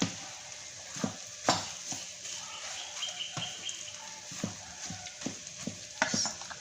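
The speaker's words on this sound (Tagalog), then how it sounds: "Marami kasing kanin na natira, kaya gagawin ko na lang siyang fried rice para sa agahan namin" Leftover rice is stir-fried in a pan with a light sizzle and repeated scraping stirs at an uneven rhythm, close by, with faint birdsong in the background.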